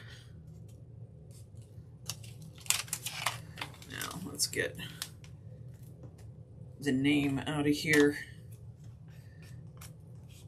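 Crisp scissor snips cutting a paper pattern in a short cluster, fairly close, with a person talking briefly partway through.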